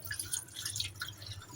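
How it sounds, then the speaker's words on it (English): Water poured into a pot of uncooked rice, small splashing drips and trickles in irregular bursts, close and fairly faint, with no talking. "So here, you gotta pour some water,"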